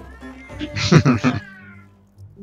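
Cats meow in the video game Monster Hunter Wilds, a short cluster of several close, bright meows in quick succession over a quiet game background.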